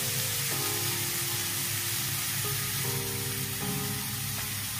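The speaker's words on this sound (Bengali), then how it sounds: "এবার এটাকে ভালো করে ভেজে নেব" Spices for a Bengali gurjali fish curry fry in hot oil, giving a steady, close, hissing sizzle with a faint tonal hum underneath.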